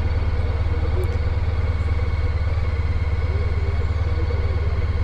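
A Honda ST1300 Pan European touring motorcycle idles at a traffic light in first gear, a steady, loud, close low rumble holding even throughout with no talk over it.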